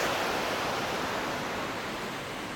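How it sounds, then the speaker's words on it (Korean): Continuous rushing water of a mountain valley stream near a waterfall, a broad steady hiss flowing over rocks nearby, with no other sounds. "아 계곡 물소리 좋죠 시원합니다"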